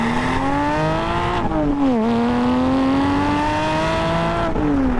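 A Porsche Spyder with a new aftermarket exhaust revving steadily at high revs, a continuous howling engine tone with brief dips and rises, loud and close with no talk.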